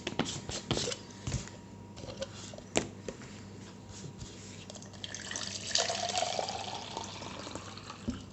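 Water poured to mix a lemon-lime-mint drink powder from a French combat ration, a close splashing, trickling pour that builds and swells toward the end, with handling noises at the start.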